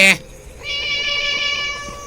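A cat meows once in the Thai horror video game Graveyard 404. After a brief loud burst at the start, a clear, drawn-out meow follows with no talk over it.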